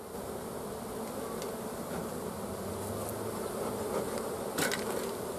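Honeybees in an open hive during winter give off a steady, dense buzzing that stays close and even throughout, with no voices.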